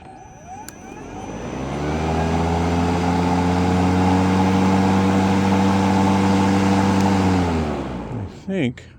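An EGO Select Cut self-propelled electric lawn mower runs on its turbo setting at medium height, spinning up into a loud, steady whine with strong droning tones that holds for several seconds before winding down, heard close up.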